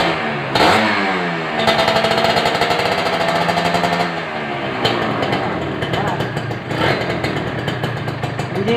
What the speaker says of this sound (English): satu jentera Kawasaki double R. Okey, kita dengar bunyi dia.